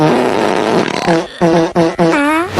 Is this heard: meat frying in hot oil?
no